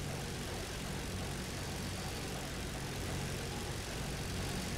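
A damaged airplane's engine in a video game drones as a dense, steady roar, loud and unbroken throughout, with no voices over it.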